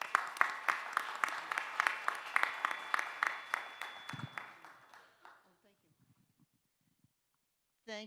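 An audience at an international economics conference claps in welcome, the individual claps distinct and rhythmic before thinning out and dying into near silence.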